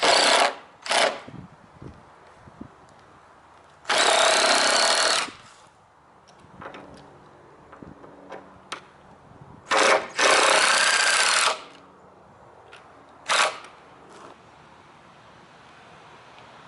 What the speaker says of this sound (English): what I'm going to do now is screw each board in